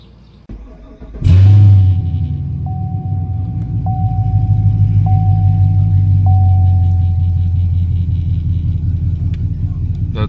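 A 2017 Chevrolet Camaro SS with a newly installed MSD intake manifold cranks briefly, fires with a loud burst, then settles into a steady, close, rumbling idle, with a faint repeating electronic chime in the background.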